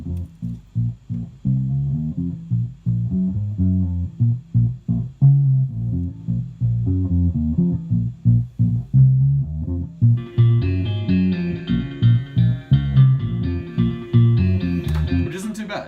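Recorded real guitar samples played back in Logic, a steady run of plucked, fairly in-time notes with low-mid body, joined partway through by a brighter sustained layer, continuous and loud with no talking.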